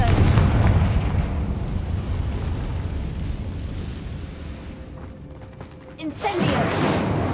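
A Confringo blasting curse in the Hogwarts Legacy video game: a heavy, rumbling explosion that decays into a long fading roar, a thin whistling tone, then a second sharp burst and renewed rumble.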